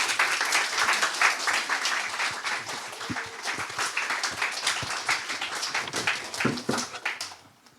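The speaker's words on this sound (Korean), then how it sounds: "나오실 때 큰 박수 부탁드립니다." A church youth congregation at a Sunday service applauds to welcome the preacher to the pulpit: dense, lively clapping from a roomful of people that keeps going for several seconds before tapering off.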